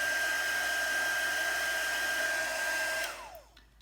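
A heat tool melting embossing powder on a card gives a steady loud whirring blow with a high motor whine, then switches off near the end as the whine drops away and the sound fades out.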